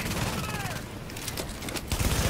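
Automated defensive turrets at a fortified substation in The Division keep up bursts of gunfire, moderately loud, with synthetic tones and game effects layered over the shooting.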